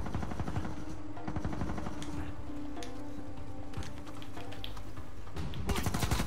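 Gunfire in the video game Uncharted 4, rapid bursts of shots and automatic fire crackling in clusters over a busy game soundscape, with a heavier burst near the end.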